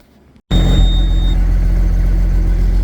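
The engine of a Case STX375 tractor with a fuel supply fault catches abruptly after a brief quiet moment, then runs steadily with a loud, close, deep rumbling drone.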